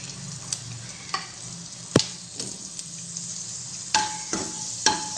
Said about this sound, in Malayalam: നമുക്കിതിലേക്ക് ഇനി വെളുത്തുള്ളി ഇട്ടെടുക്കാം.